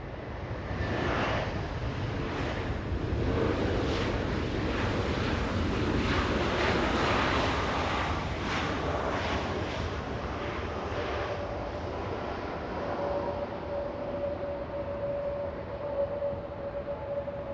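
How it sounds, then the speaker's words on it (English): A brand-new yellow Spirit Airlines A320 on approach into LAX from Pittsburgh makes a loud, sustained jet roar that swells and hangs in the air, then thins to a lingering engine whine. "Yellow plane coming in, Spirit Airlines 653 flying in from Pittsburgh."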